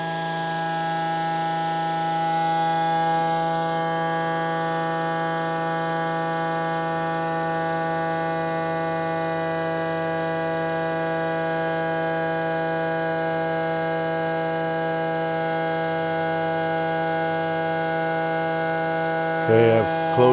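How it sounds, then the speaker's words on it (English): A pump, switched on as the number 1 unit, drones with a steady tonal hum that holds unchanged for about twenty seconds, close and continuous, with a faint clatter near the end. "We'll go ahead and turn number 1 pump on"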